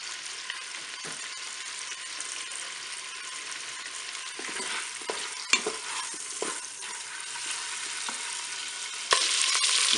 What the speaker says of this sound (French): j'ai mon beurre qui est fondu, je vais commencer à faire dorer mes paupiettes tranquillement